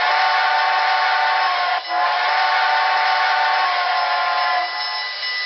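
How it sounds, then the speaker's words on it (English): Whistle of a model GS-4 steam locomotive: a loud, sustained multi-tone chime whistle, close and steady, with a brief dip partway through before sounding on to the end. "And a proper whistle."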